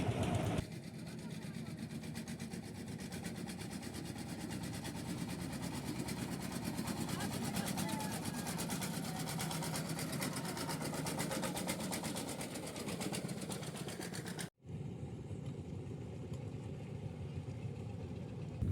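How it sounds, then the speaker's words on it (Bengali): A river-crossing boat's engine drones steadily and close throughout, a continuous rumbling chug with a brief cut near the end, and voices faintly present beneath it. "তো এখন আমরা নদী পার হওয়ার জন্য এই যে নৌকা ডেকেছি"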